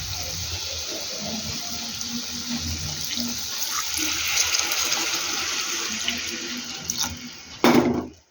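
Water pours steadily into a pot of curry on the stove, a continuous splashing stream that runs for several seconds and ends with a brief louder clatter.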